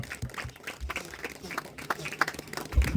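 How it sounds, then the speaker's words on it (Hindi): A church congregation gives a round of thankful applause, a soft, steady patter of many hands spread across the room, with some voices mixed in and a louder burst near the end. "एक धन्यवाद की ताली देंगे।"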